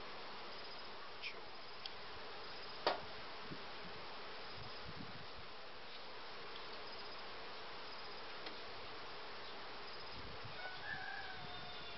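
Honeybees buzz as a steady, faint drone around an overwintered nucleus colony's hive box during transfer to a new hive, with a few brief louder passes close by and no voices.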